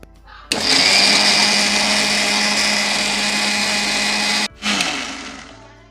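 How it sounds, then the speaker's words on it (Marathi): A kitchen mixer grinder whirs at full speed grinding green chillies and coriander seeds, a loud close motor whine lasting about four seconds, briefly stopping, then pulsing once more before spinning down. "आता हे मी एकसाथ व्यवस्थित सॉफ्ट असं लावून घेते मिक्सरला"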